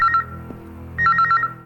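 A telephone rings with electronic chirping tones, one short burst, then a pause, then a longer trilling burst of repeated beeps, clear and close.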